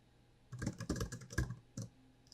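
Fingers tap out a short burst of quick, crisp clicks on a computer keyboard, close and quiet, in uneven clusters over about two seconds with no talking.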